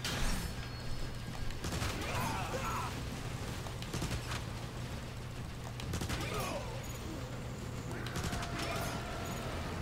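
Transformers: War for Cybertron gunfire: faint bursts of shots and distant impacts crackle intermittently over a steady low background rumble.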